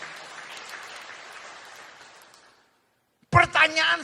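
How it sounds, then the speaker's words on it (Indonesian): Church congregation applause during a sermon, a broad wash of clapping that gradually fades out, followed by a brief silence before a voice starts speaking loudly. "Berikan tepuk tangan yang meriah buat saya."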